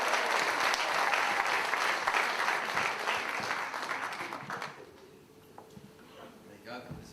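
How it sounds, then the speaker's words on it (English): An audience at a stand-up comedy night gives a loud round of applause that fades out after about five seconds, followed by quieter room sounds and a voice speaking. "So an extra round of applause."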